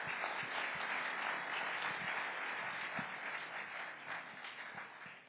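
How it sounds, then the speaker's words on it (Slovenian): A crowd gives sustained applause, dense overlapping clapping that carries on evenly and tapers slightly toward the end, heard faintly at a distance. "mislim, da si oba resnično zaslužita izjemen aplavz"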